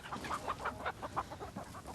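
A man imitates a cockerel with a quick run of clucking, crowing calls in steady bursts, fairly loud and close, with no other talk.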